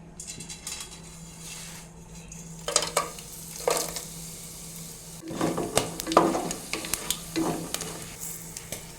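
Green chillies, onions and tomatoes frying in oil for egg biryani, with a steady sizzle and bursts of louder crackling and scraping as they are stirred around the pan.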